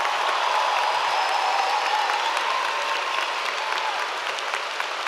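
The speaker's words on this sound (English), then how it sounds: "Please give them a round of applause." Graduation audience at Duluth High School applauding staff and faculty, a steady, dense wash of clapping from a large crowd that holds evenly throughout and fades only slightly near the end.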